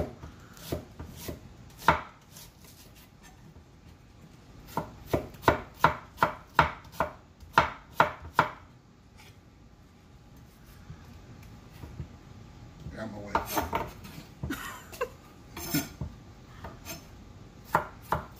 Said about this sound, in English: They have an onion, small white onion. Again, sliced nice and thin.